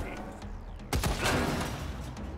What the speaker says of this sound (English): Mortar blast?